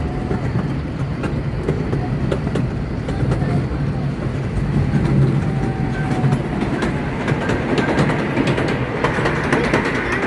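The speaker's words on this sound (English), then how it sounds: "Beautiful scenic train ride though." A passenger train rolls through the Northeast Pennsylvania countryside, with a continuous rumble, rhythmic clickety-clack of wheels over rail joints and occasional metallic squeals, steady and close throughout.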